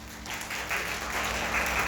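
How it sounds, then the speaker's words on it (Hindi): A meeting audience at a BCL India chapter gathering breaks into applause, a steady wash of clapping that swells slightly and holds at a moderate level. "तो नेहा जी के तालियां।"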